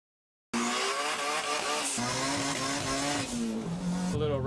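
Cars racing nearby, a loud, sustained engine roar with shifting revs and pitch changes, starting abruptly and continuing strongly throughout.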